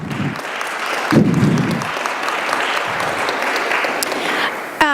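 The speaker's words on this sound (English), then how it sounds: "go ahead, give them a round of applause" Audience applauds volunteers who ran the kitchen and helped with lunches and snacks at a panel discussion event, a steady broadband roll of clapping sustained for several seconds with a brief louder swell early on.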